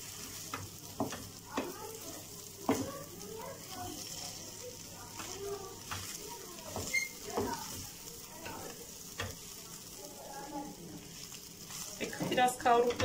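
Rice toasts in oil in a pan for stuffed vine leaves, a soft steady sizzle broken by scraping stirs and occasional clinks, with a voice talking over it.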